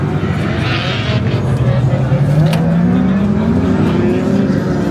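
A drift car engine hums and climbs steadily in pitch as it revs, loud and close, with people talking over it.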